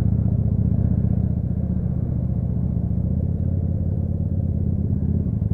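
Chopper motorcycle engine running cold, not yet warmed up, a steady close low rumble with uneven idle-like throb throughout, no voices.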